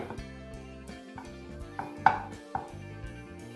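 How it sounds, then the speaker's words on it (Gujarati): Gram flour bhurji being mashed in a pan with a utensil: soft irregular knocks and scrapes against the metal, a few sharper taps standing out, close and fairly quiet, no voices. "બધું આવી રીતે સરસ મેશ કરી લેવાનું છે"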